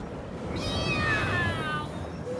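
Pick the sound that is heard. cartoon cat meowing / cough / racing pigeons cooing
cartoon cat meowing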